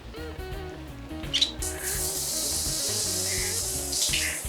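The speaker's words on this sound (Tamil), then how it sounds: "நான் உங்களுக்கு இந்த ஷவர் ஓப்பன் பண்ணி காட்டுறேன் இப்போது" A shower in a Maldives beach villa bathroom starts running, a steady loud hiss of spraying water that rises after a brief pause and continues, while birds chirp faintly in the background.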